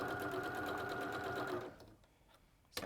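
A sewing machine runs steadily while stitching a patchwork bag around a curve, a close, even whirring hum for about a second and a half. It then stops, leaving faint handling clicks.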